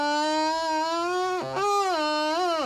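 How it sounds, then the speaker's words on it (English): A bagpipe chanter holds a steady note while fingers fail to seal the holes fully, so the pitch wobbles and squeaks briefly mid-phrase before settling back, loud and close, with no talking. "That noise there, where our fingers just aren't like completely on the holes"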